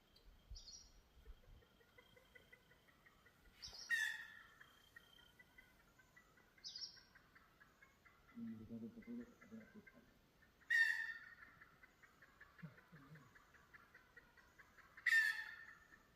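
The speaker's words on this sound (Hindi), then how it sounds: "यहाँ पे स्ट्रेस कॉल हो रही है मुर्गे की।" A junglefowl gives sharp, repeated alarm calls at intervals in forest at Rajaji, over a quiet background with a steady insect-like buzz and a brief low voice.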